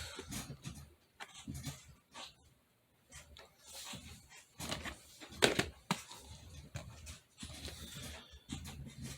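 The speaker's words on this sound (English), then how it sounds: "my dogs got to make noise and be stupid back in the background" Dogs whimper, pant and make scattered noises in the background, faint and intermittent with short quiet gaps between bursts.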